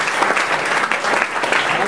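An audience applauding at an improv theatre show, a dense, steady burst of many hands clapping together, loud and close, with no gaps.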